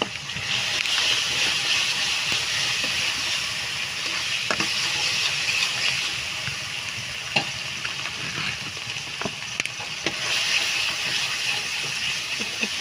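Ground chili paste sizzles and hisses steadily in a pan while a utensil stirs it, scraping and clicking at intervals over the continuous frying, with no talking.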